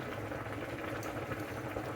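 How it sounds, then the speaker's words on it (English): Spaghetti boiling in a pot on a stove, a steady bubbling and rolling hiss that stays even and continuous throughout, fairly quiet and close with no voices. "You probably hear all that boiling spaghetti for the kid"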